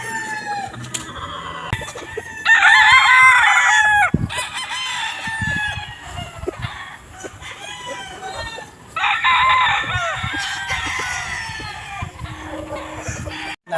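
A young gamefowl stag, a round head cross, crows loudly and close in two long bursts, with scattered clucks and other fowl calls in between.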